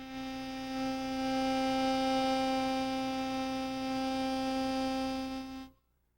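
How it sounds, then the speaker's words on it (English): A single harmonica blow reed sounds one steady, sustained tone with rich overtones for about five and a half seconds, unaccompanied and unwavering, then stops abruptly into silence. "When you blow air into the harmonica, you are activating the blow reed"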